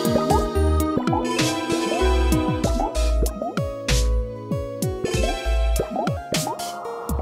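Bubbles popping in the Wii game Pop, a rapid run of bright, watery plops and bloops over light game music, loud and continuous with no talk.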